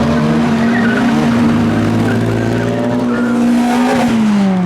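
A modified classic car accelerates hard away from a car show, its engine droning loud and close, with tire squeal rising through the pull before the engine pitch drops at the end.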